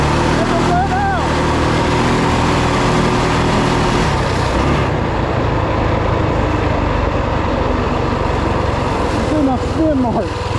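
2WD Rokon motorbike with a 223cc Wildcat engine, loud continuous engine noise with rough revving while the tires spin in dirt, mixed with people talking and a brief whistle-like sound.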